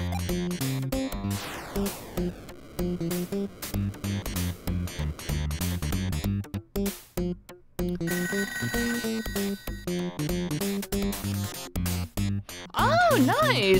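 A telephone rings in the video game ToeJam & Earl, a bright trilling tone near the end over busy, choppy game music and sound effects, with a player talking throughout.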